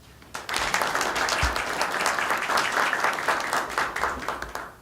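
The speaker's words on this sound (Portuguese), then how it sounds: "Vivian, por gentileza, peço uma salva de palmas." Audience at the 61st Telebrasil panel on productivity reform breaks into applause, a sudden start of dense, even clapping that holds steady at close range before tapering off.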